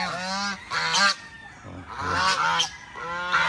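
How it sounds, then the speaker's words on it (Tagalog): Geese honk loudly and repeatedly, close by, in overlapping bursts of harsh calls with brief pauses between them. "Maingay yung gansa."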